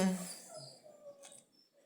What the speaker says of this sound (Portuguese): Bob vai ficar latindo, porque o Miguel sai e ele começa.